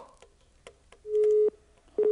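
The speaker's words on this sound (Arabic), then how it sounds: "الخط قطع" A telephone busy tone sounds after a call-in line drops during a live broadcast, with two short steady beeps following quieter clicks and background noise.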